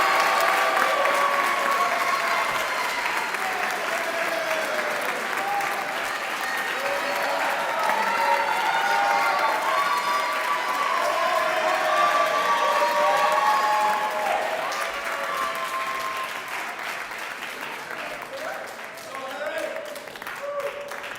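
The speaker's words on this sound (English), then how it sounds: "please give a round of applause for Eric Faget" Sustained applause from an audience at a college athletics awards ceremony, a dense wash of many hands clapping that swells, holds steady for a long stretch, then slowly thins out, with cheers and voices scattered through the crowd.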